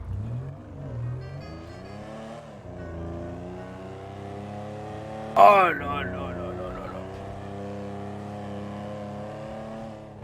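A vintage Stirling GT sports car engine idles with a steady low rumble and a brief rev midway, while a voice exclaims over it.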